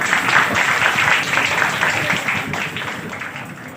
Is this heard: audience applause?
yes